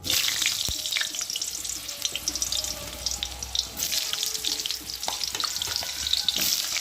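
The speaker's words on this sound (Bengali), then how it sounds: "এখন আমি আলুগুলোকে প্রথমে সব রকম সবজি একে একে করে ভালো করে ভেজে নেব" Potatoes frying in hot oil in a wok, a dense, steady sizzle with occasional faint clinks throughout and no talking.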